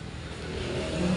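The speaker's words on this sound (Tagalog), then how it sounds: "Kaya lang maingay yung mga dumadaang sasakyan" Traffic passing on a road outside at night, a steady broad engine rumble and road roar that swells slightly toward the end, fairly close, with no talk.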